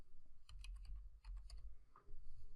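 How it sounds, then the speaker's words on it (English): Computer keyboard typing while entering student names and numbers into a class roster: bursts of quick, light clicking keystrokes at close range, with short pauses between runs and no talk. "Just typing that in for now."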